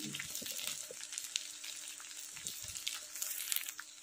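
Hot cooked rice and fried vegetables sizzle in oil and ghee in a pan, a steady close crackling hiss with occasional soft stirring scrapes and no talk.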